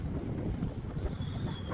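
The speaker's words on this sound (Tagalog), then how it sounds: "Sarap ng hangin. Ito mo si Kuya. Ayaw magpadaan. Ayaw magpadaan ni Kuya. Masarap ang hangin. Lakas." Strong wind buffets the microphone in a continuous low rumbling roar, loud and close, with no other clear sounds.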